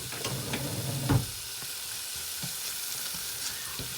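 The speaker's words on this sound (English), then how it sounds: "So I'm going to saute it in this, I guess you can say this fish stock." Peppers and garlic sauté in olive oil with a splash of fish stock, giving a steady soft sizzle with occasional utensil knocks and stirring scrapes, one louder clatter early on.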